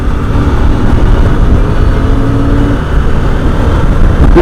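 A CF Moto Ibex 800 motorcycle engine pulls hard and steady under load, a loud continuous drone with wind rush while riding, holding its revs without a break.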